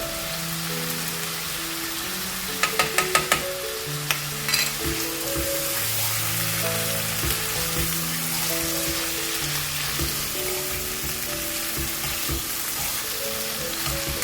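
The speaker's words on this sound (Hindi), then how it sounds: "इसको फ्राई करेंगे" Meat pieces for chana dal gosht, salted at this stage, fry in a pan with a steady crackling sizzle and occasional sharp pops, all under a layer of background music.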